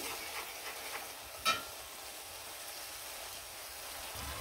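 Fish head stir-fried in a pan with chili, turmeric, coriander powder, cumin and salt, giving a steady faint sizzle with soft stirring scrapes throughout and one brief louder clink near the middle.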